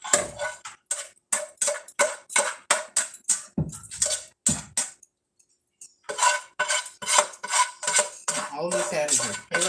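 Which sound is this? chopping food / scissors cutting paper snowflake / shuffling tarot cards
chopping food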